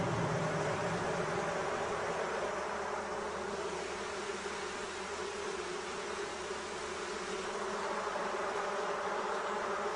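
Honey bees swarm around a beehive, their dense, steady buzzing holding close and constant throughout with no pauses and no voices.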